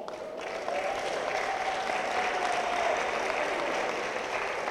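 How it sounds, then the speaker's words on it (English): A school-system audience gives sustained, even applause for a high school principal, starting abruptly and holding steady at moderate volume in a large hall. "you guys give him a round of applause"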